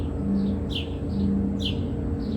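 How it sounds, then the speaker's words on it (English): Small birds chirp outdoors in short repeated bursts, faint and somewhat distant, over a steady low background rumble. "Y'all hear the birds?"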